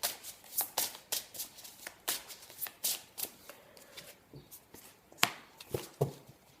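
Angel oracle cards are shuffled for a reading in repeated riffling bursts, close and crisp, in a steady rhythm that turns more irregular toward the end.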